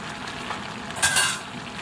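Cooked shrimp and precooked corn stirred together in a hot pan, a steady frying sizzle with a brief louder scrape and hiss of the spoon mixing through the food midway.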